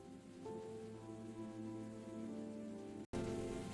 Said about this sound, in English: I love the sound of rain on my umbrella.